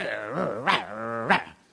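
A man imitates a dog with his voice, giving two growling, barking yelps over a sustained whining, harmonic tone, close and fairly loud for under two seconds.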